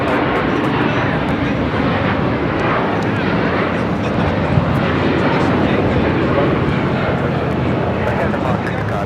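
A Qatar Airways Airbus A350-1000 departs LAX for Doha. Its heavy jet roar is loud and sustained the whole way, with voices talking over it.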